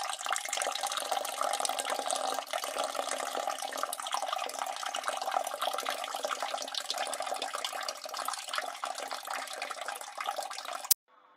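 A toilet flushes with a steady rush of gurgling water that runs continuously for several seconds, then stops abruptly with a faint click at the end.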